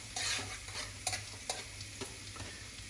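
Chopped garlic fries in a pan for stir-fried egg noodles, giving a quiet, steady sizzle with several sharp taps of a spatula against the pan, nearby and without speech.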